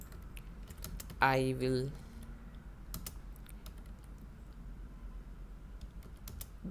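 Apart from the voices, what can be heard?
typing code on a computer keyboard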